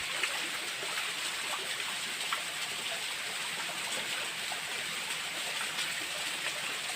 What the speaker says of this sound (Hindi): ऊपर से पानी गिर रहा है।